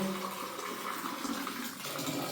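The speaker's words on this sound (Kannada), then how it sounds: "ಈಗ ಚಿಕನ್ಗಿಂತ ಮುಂಚೆ ನಾವು ನೀರು ಹಿಡಿತಾ ಇದ್ದೇವೆ" Tap water runs steadily into a container while water is collected before cooking chicken, giving a continuous, even splashing hiss at moderate distance with no talking.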